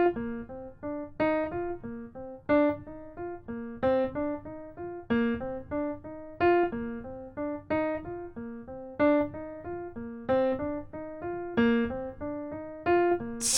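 Solo piano plays a rhythmic exercise of repeating five-note sixteenth-note groupings, with regular accents standing out in a steady, even pulse, close and clear with no talking.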